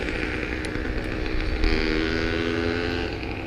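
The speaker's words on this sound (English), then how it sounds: "It's got weed whacker motors on those bicycles." Small two-stroke weed whacker engines fitted to bicycles buzz along a canal bank, a steady raspy whine that rises and swells around the middle as they pass, then eases slightly, with a constant low rumble underneath and no talking.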